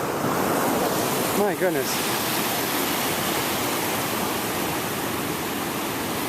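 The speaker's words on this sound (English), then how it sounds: "The tide has just decided to come in all at once." Surf rolls in steadily along the Maine coast as the tide comes in, a loud continuous wash of breaking waves with wind buffeting the microphone, and a person briefly exclaims near the start.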